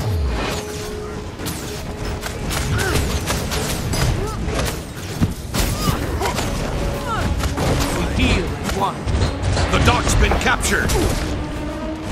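Dense, chaotic Guild Wars 2 PvP battle noise with rapid booming cannon shots and clattering impacts, loud and continuous, with voices shouting underneath.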